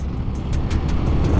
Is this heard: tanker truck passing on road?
yes